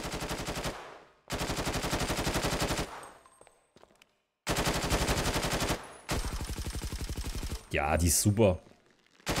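M16 rifle bursts in GTA 5 roleplay: several long, loud strings of rapid automatic fire separated by short silences, with a brief spoken remark near the end.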